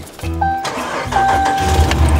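A vehicle with a previously dead battery cranks over and catches, the starter whirring briefly before the engine fires up into a loud, close running rumble.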